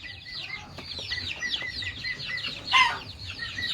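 Nearly a hundred chickens cluck and chatter continuously nearby in a coop, with one louder squawk rising briefly above the steady flock noise.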